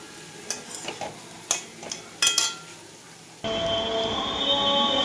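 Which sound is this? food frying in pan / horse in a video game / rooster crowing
food frying in pan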